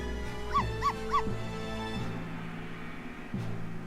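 Small dog from the game Professor Layton vs. Phoenix Wright gives three quick yipping barks in a row, then a low whimper under a soft game music backdrop.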